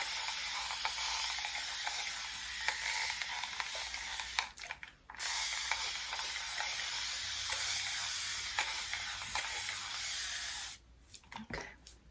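Spray bottle misting water onto natural hair while braiding, a long continuous hiss that pauses briefly, then resumes before cutting off with a few short bursts.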